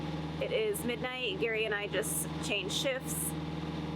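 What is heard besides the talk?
sailboat engine motoring at midnight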